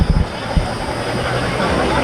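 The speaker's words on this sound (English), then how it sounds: "There's one train over here." A train rumbles past with a continuous rolling roar and a few heavy thumps at the start, fairly loud throughout.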